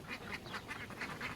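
Muscovy ducklings give a rapid run of about six short, close quacking calls in quick succession, with a faint background hiss.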